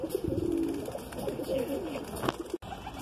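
Madrasi pigeon cooing in soft, low repeated phrases, fairly close, with light background noise and no talk over it.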